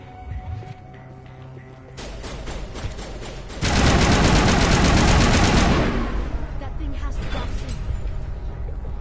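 Rapid automatic gunfire in the video game Mass Effect, shooting at tentacles, rattles loud and close in a sustained burst of a few seconds, followed by lingering game noise with a player talking.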